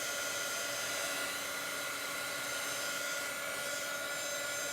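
A hair dryer blows steadily on a Chalk Couture chalk transfer, a constant even whooshing hum held at one level from start to finish, without pauses or speech.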